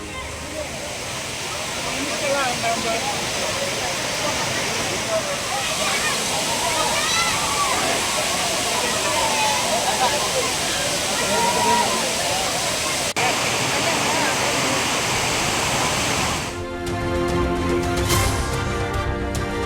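The main waterfall at Courtallam in Tenkasi pours steadily in a loud, continuous roar of falling water, close and unbroken, with a brief splashing disturbance near the end.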